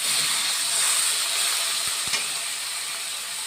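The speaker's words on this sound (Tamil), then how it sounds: "இது கொஞ்சம் நேரம் நல்லா கொதிக்கட்டும்." A steady hiss of dried-fish curry bubbling and simmering in a pot, continuous and close, with a couple of faint clinks.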